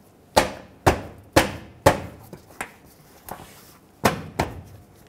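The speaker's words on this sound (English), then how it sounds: "let's just re-secure this shield with the push clips" Plastic push clips snap into a car's under-shield in a series of about eight sharp, close knocks, spaced irregularly with short pauses between them.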